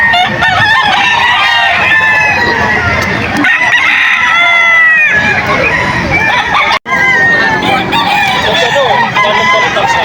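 Young roosters at a bustling Bocaue, Bulacan poultry market crow loudly and repeatedly, several calls overlapping amid clucking and background chatter.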